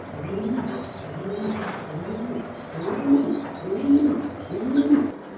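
Racing pigeons on a farm with over 400 breeding pairs coo in repeated low, throaty phrases close by, with faint chirps and a steady background murmur and no talk.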